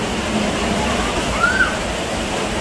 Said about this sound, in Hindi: तो ये पानी गिर रहा है ऊपर झील से प्यारा।